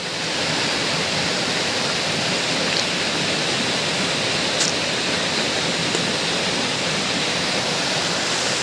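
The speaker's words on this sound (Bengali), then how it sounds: "আমি এখন বামনি ঝর্নার সামনে চলে এসেছি" Bamni waterfall in the Ayodhya hills, with hill water pouring and rushing nearby as a steady, loud, broadband roar that runs unbroken throughout with no voices.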